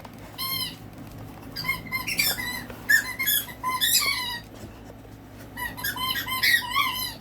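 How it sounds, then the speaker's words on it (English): A dog's rubber squeaker ball is squeezed indoors in quick bursts of shrill, high squeaks, several in a row with short gaps, fairly close, over a faint low hum. "the boys just ran in here with their squeaker ball."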